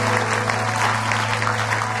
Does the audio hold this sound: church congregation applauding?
yes